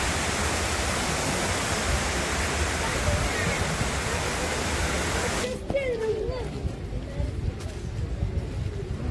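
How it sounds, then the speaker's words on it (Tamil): Water pours from two opened sluice gates at Kundala dam in Munnar, a steady broadband rush that fills the first half, then cuts to a quieter, thinner flow with faint scattered sounds. "இந்த குந்தலா டேமில் சுற்றுலா பயணிகளை கவர்றதுக்காக ஒரு 2 மதகளை தண்ணீர் திறந்து விட்டுருக்காங்க"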